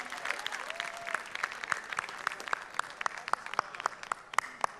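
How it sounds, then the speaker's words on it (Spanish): Audience applause at an awards ceremony honoring a Dominican merengue singer, steady clapping from a crowd with sharp individual claps standing out, moderately distant and without speech. "un fuerte aplauso de nuevo"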